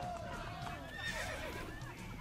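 A horse whinnies through a busy Assassin's Creed Brotherhood game soundscape, with faint voices and ambient tones underneath.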